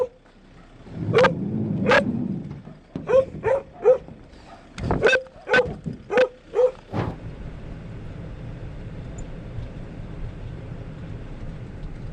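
A dog barks loudly and close by in a burst of several sharp barks, a pause, then a quicker run of about eight barks, followed by a lingering low rumble like a running vehicle.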